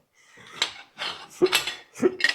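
Several sharp metallic cracks and creaks in quick succession, close and fairly loud, as a stuck seatpost is forced loose from a vintage Serotta bicycle frame.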